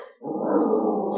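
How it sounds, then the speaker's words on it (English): A Jack Russell terrier growls and barks in one sustained, loud, rough burst lasting about a second, close to the microphone with no talking. "Sorry, that's my dog."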